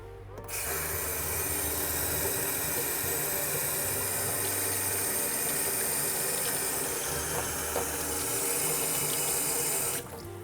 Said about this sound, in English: I'm gonna start by getting all of the paint out that I can by just rinsing it with the water and with my hand